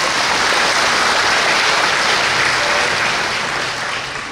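Dense, steady applause from a seated audience at a Dhamma sharing talk, filling the whole stretch at a loud, even level before easing slightly near the end, with no voices over it.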